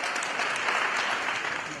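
Congregation applause fills a church healing service, a dense continuous burst of clapping, fairly loud and even throughout, with no voices on top.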